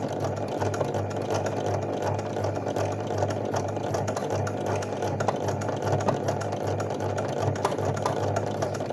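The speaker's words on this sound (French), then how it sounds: "c'est l'aiguille qui a du mal à percer l'épaisseur" A sewing machine stitching lines of embroidery drives its needle through thick fabric, a fast steady mechanical chatter with a low motor hum, close and continuous without talk.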